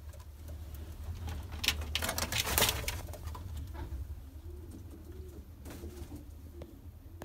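Mardin and Miro pigeons, including a front-crested bird, coo softly nearby in a loft, low rolling calls repeating under steady background hum with a few brief rustles.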